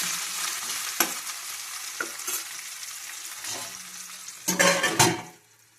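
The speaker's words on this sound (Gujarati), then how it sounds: "બટાકાને બે મિનિટ માટે ઢાંકીને ચડવા દઈશું" Potatoes for a cauliflower and potato curry cook in a pan with a soft, steady sizzle, broken by a few sharp scraping stirs and clinks of a utensil near the end.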